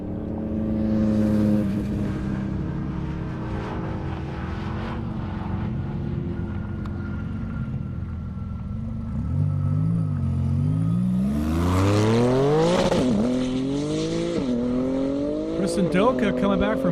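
Drag racing Corvette making a solo pass on an airport half-mile strip, a loud engine drone that rises in pitch through sharp gear changes, with a commentator talking over it.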